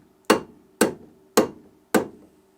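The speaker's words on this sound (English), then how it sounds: "tap them with a hammer" A hammer taps small covers into place on a Lotus Elan M100 front wheel hub, giving four sharp, evenly spaced metallic knocks that ring briefly, close and clear with silence between.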